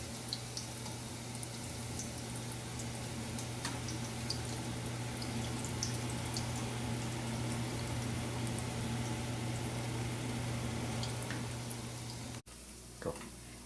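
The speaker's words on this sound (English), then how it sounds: "we'll finish frying all the pakoras" Pakora dumplings fry in oil over low to medium heat, giving a steady close sizzle and fine bubbling crackle that holds for most of the clip before cutting off near the end.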